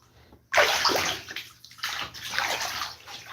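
Hot water pours steadily into a bathtub as it fills, with a loud splashing rush that starts suddenly, dips briefly, then carries on close by.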